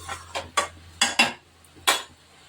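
A lid is set onto a pot of cooking pumpkin greens, producing a quick series of about six sharp metallic clanks and rattles, close and distinct against a quiet background.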